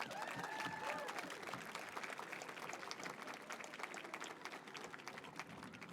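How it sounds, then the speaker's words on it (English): An audience gives a sustained round of dense clapping at a ceremony marking a children's rehabilitation building, heard from within the room and easing slightly toward the end. "One more round of applause."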